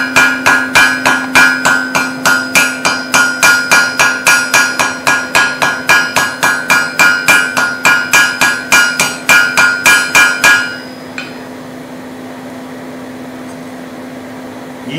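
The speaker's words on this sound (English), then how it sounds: "I'll use my ball peen hammer to rivet the top side of this rivet" A ball peen hammer riveting a hot rivet on blacksmith tongs, about forty fast, steady metallic blows ringing in even rhythm, then stopping, leaving a faint background hum.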